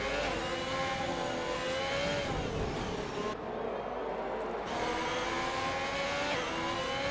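Race car engines drone and rev steadily in a sim racing league event at a Spain circuit, a continuous mid-pitched whine with rising and falling gear changes, fairly loud throughout.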